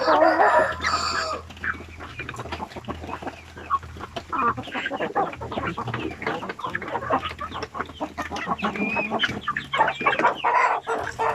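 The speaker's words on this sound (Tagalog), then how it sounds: "Yung mga RTL ng mga basilan. Mga 5 or mga 8 ata to sila dito." RTL Basilan laying hens in a pen keep up a busy chorus of clucks and cackles, many birds overlapping close by and fairly loud, with no speech.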